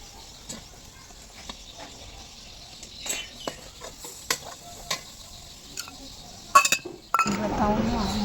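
Boiled potato curry is stirred and fried in a pan over a low cow-dung fire, with scattered clinks of a utensil against metal, a soft sizzle underneath, and a louder burst of clatter and frying near the end.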